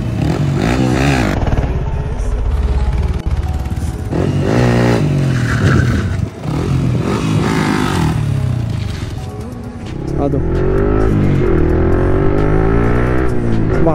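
A Yamaha MT-15 motorcycle with an aftermarket exhaust roars loudly at full power, its engine note climbing and dropping through repeated revs and gear changes, close and continuous.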